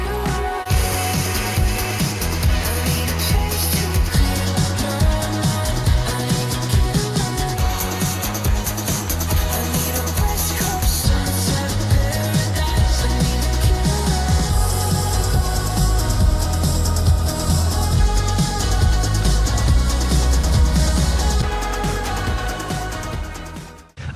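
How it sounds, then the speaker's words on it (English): A full mixed song plays continuously with heavy reverb, forward vocals, percussion and a prominent bass guitar, dense and loud from start to finish with no talking over it. "Now listen to this song. It has a lot of great reverb going on."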